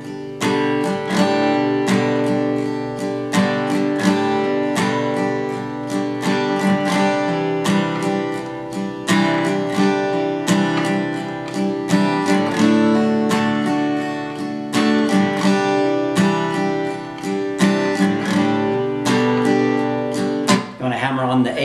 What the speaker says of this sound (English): We can add a little bit of variation in there by doing these hammer-ons.